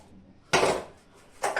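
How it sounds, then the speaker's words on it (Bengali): A heavy kadai is set down onto pressed paneer in a home kitchen, giving a loud, close metallic clunk of pot against pot, with a second shorter knock a moment later. "ভারী কড়াই আছে এটা আমার, কোনো ভারী পাত্র বসিয়ে রেখে দেবে"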